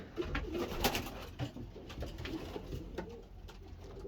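A pigeon coos softly indoors in a breeding loft, several short repeated murmurs at low volume, with faint shuffling in the background.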